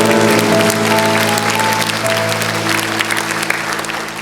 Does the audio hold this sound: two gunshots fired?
no